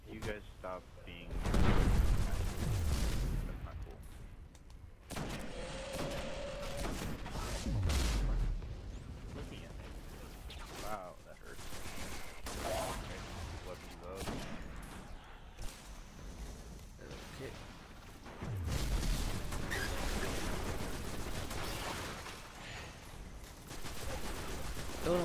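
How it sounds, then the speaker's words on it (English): Assault rifle fire and explosions from the Destiny video game sound in repeated loud bursts and booming blasts over a roughly 25-second stretch of battle noise, near and dense, with brief quieter gaps between engagements. "I don't know why I'm using this crappy assault rifle"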